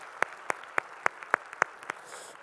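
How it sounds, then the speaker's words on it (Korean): A church congregation claps in praise to the Lord, heard as a slow, even series of about eight distinct claps, fairly close and with no talking. "우리 찬양 받을 주님께 영광의 박수를 올려드리겠습니다."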